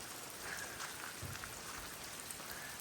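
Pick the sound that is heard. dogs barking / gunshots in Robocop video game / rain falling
rain falling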